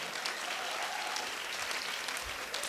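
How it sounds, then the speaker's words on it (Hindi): A crowd at a Hindi comic poetry gathering applauds, a dense, continuous wash of clapping heard from within the audience, steady for the whole stretch with no talk over it. "एक बार ताली तो बजा दो।"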